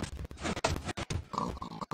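Pigs oinking in Minecraft, a cluster of short grunts and snorts in quick succession, fairly close, with no one talking.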